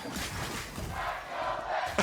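An arena crowd at a League of Legends esports match, TSM against Team Liquid in the 2019 LCS Summer Split, roars in a sustained, swelling cheer that fills the hall with no single voice standing out.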